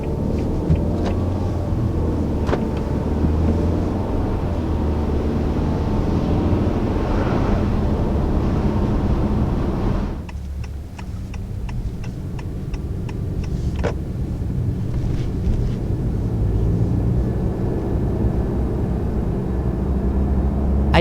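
A 2019 Nissan Altima SR or 2019 Honda Accord Sport midsize sedan accelerating, a steady low engine and road drone that dips briefly midway, then builds again with faint ticks.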